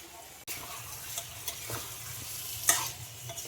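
Curry being stirred and sautéed down in a pan, a soft continuous sizzle with occasional spatula scrapes and clicks, one sharp knock near the start.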